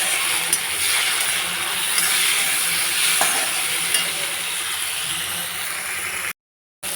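Chopped tomato stirred into a sizzling mutton and potato curry base in a pan, a steady loud frying hiss with faint scraping stir strokes, no talk, briefly dropping out near the end.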